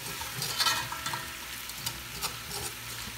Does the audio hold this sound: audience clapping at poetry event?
no